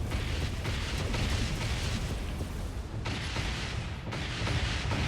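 Plasma broadside cannons of a Gravis ship firing in the space combat game Dreadnought, a sustained barrage of heavy booming blasts with mechanical rumble, loud and continuous, swelling again after a brief dip.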